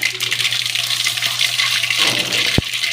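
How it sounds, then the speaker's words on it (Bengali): Mustard seeds sputter in hot oil alongside dried red chillies, a steady hissing crackle with scattered pops and one sharp louder pop near the end, close and continuous throughout. "এবার সর্ষে দিয়ে দিলাম একটু সর্ষেটা ফুটবে"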